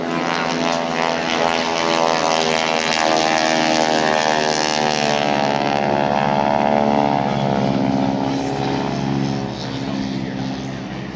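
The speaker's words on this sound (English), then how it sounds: "That rapping sound is actually the propeller tips breaking the sound barrier." A Harvard propeller airplane roars past close by at an airshow, its loud buzzing drone rising then slowly fading as it moves away, with a rapping edge from the propeller tips breaking the sound barrier.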